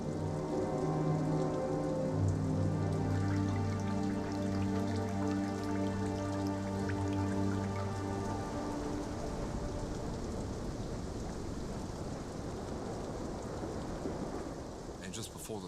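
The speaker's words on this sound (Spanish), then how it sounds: "comenzó a llover" Steady rain pours onto the open sea off New Zealand, a dense hiss of drops on water that continues throughout, with low rumbling tones fading out after the first half.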